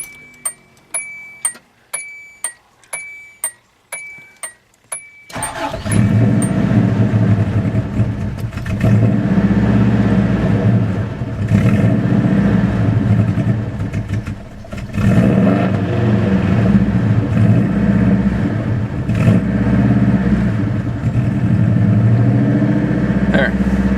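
A Subaru car after a quarter-gallon refuel: a rapid series of ticking chimes and clicks from the dash, then the engine cranks, catches and settles into a loud, steady idle with slight surges in revs.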